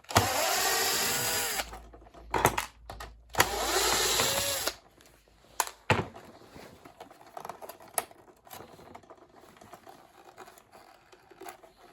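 A cordless power drill or screwdriver drives screws out of a Nescafe Dolce Gusto coffee machine being taken apart, in two sustained whirring bursts up close, then scattered clicks and handling knocks of plastic parts.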